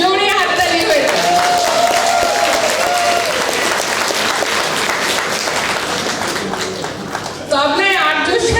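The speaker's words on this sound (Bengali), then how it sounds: "সেই জন্য সবাই আর্যর জন্য জোরে হাততালি হয়ে যায়।" Loud, sustained applause from a concert audience at a Bengali music event in Ottawa, greeting the tabla player, dense clapping filling the whole stretch with some voices mixed in.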